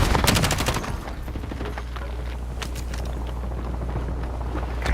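Video-game gunfire crackles in a rapid automatic burst at the start, followed by scattered single shots over a constant low engine-like rumble, loud and close.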